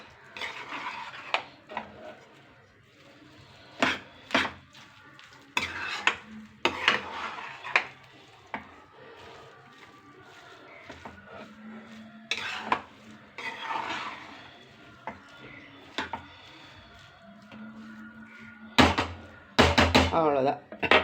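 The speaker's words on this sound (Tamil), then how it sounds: "இப்போ இதை நல்லா நம்ம கிளறி விட்டுக்கலாம்." Spoon scraping and knocking against a metal pot while stirring rava kichadi, in irregular bursts of clinks and scrapes with quieter gaps; someone talks in between.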